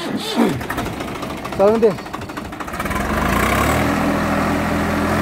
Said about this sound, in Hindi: 48 पर स्टार्ट हो गया ट्रैक्टर